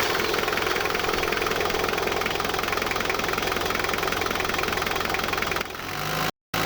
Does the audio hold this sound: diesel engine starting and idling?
yes